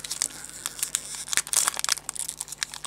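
Foil wrapper of a sealed Pokémon EX Emerald booster pack crinkling and tearing open close by, a run of sharp crackly rips and rustles spread over a few seconds, with no talking.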